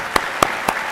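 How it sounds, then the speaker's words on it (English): A school opening-day audience claps in scattered fashion: three sharp, separate claps about a quarter second apart, fairly close, with a faint room hum between them and no voices. "Let's give our young scholars a round of applause."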